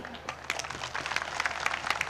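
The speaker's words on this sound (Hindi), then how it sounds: "जोरदार तालियां" Crowd clapping at an SMWA 2016 event, scattered at first and then thickening into fuller applause over two seconds, with sharp individual claps standing out near the front.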